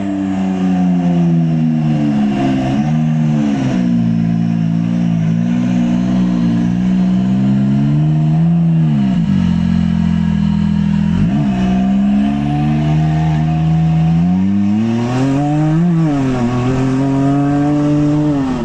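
A loud off-road car engine with an aftermarket air intake revs continuously, rising and falling in pitch with sharp throttle swells, close up and dominating throughout, with no talking.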